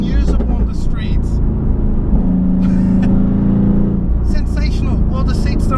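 A 2018 Mercedes-AMG GT R accelerates hard on a public road, a loud droning engine roar with a rising tone under excited speech from inside the cabin.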